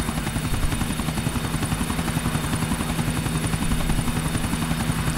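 A helicopter in Grand Theft Auto IV thuds with fast, steady rotor chopping over a loud engine whine, sustained and close throughout with no speech.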